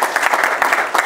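An audience at a business talk claps briefly, a short loud burst of dense, close applause lasting about a second.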